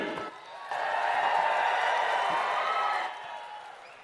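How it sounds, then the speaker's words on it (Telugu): A large crowd at an outdoor public political rally in Bhongir bursts into sustained clapping and cheering. It swells quickly, holds as a dense roar for a couple of seconds, then eases off. "जोर से ताली बजाओ।"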